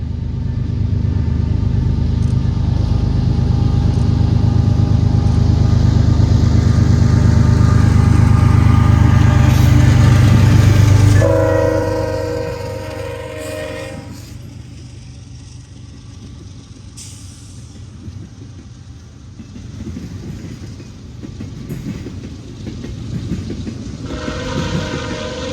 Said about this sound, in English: CSX 835 leads this international stacker toward Chicago